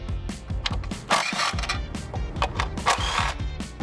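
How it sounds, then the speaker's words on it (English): A 10 mm ratchet removing valve cover bolts, with rapid clicking pawl ratcheting in quick bursts and metallic clinks close by. "So we've got a 10 millimeter."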